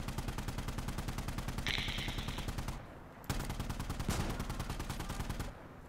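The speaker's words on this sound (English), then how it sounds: "Mount Polar's shooting him in the ass, bro" Rapid bursts of automatic gunfire and single shots in the video game Insurgency during a PVP match, loud and close, with a dense rattling stream that briefly pauses before resuming.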